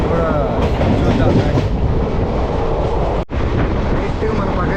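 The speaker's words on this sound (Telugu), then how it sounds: "అది సారీ మేడ్చల్ వెళ్ళే ప్యాసింజర్ డెమో ట్రైన్ అయితే ఉంది" A passenger DEMU train bound for Medchal rumbles past at close range in a loud, dense roar of wheels and carriages, continuous throughout with one abrupt momentary dropout.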